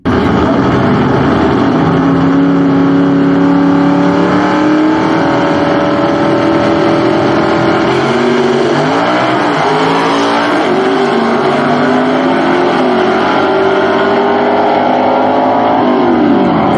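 Gasser drag racing cars at a Southeast Gasser Association event launch and accelerate down the strip, a loud sustained engine roar rising in pitch as they pull away.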